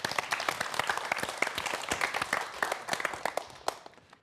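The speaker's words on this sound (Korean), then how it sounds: "김은빈 교수님의 강연 역시 박수 부탁드립니다" A lecture audience applauds for a professor. The clapping is dense and sustained, fairly loud and close, and trails off at the end without any talk.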